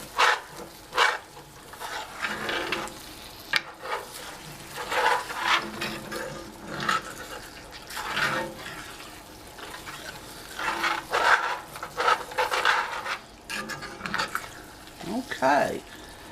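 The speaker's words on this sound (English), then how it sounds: "let's add our other can of soup. Get that all stirred in." Canned soup is stirred into a cooking pot, giving wet sloshing and scraping strokes in an uneven rhythm up close, with a voice now and then.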